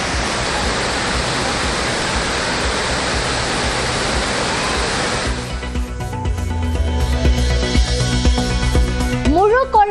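The flooded Thiruparappu main waterfall roars loud and steady for about five seconds. Then the roar gives way to music with a voice over it.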